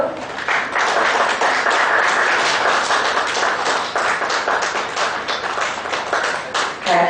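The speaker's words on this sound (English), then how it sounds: "Please give a round of applause for the speaker" Audience applause at a Bangalore branch professional session on struck-off companies revived through the NCLT, a steady, dense wash of clapping sustained for about seven seconds at fairly high level, with faint voices mixed underneath.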